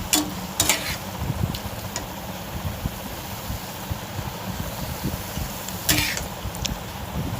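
Taro greens cooking with slit green chillies in a pan, a soft continuous sizzle broken by scraping stirs of a spatula and a few sharper metallic clinks against the pan.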